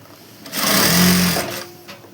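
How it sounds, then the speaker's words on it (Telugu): Sewing machine stitching an umbrella frock in one steady burst of about a second, whirring up and back down, close and fairly loud with no talk. "మీకు చూపించడం కోసం నేను ఇలా కుడుతున్నాను."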